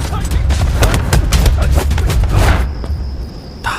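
Gunfire in the kung fu film Kung Fu Traveler Part 2, about aliens invading Earth: a dense run of rapid, loud shots and booms amid a busy soundtrack, ending with a ringing tone and one last burst.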